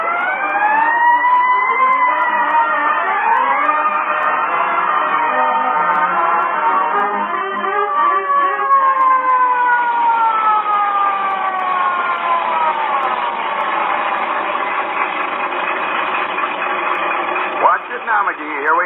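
Fire engine siren in an old-time radio comedy, a long wailing tone that rises and falls steadily for close to twenty seconds, loud and continuous, with sweeping pitch glides throughout.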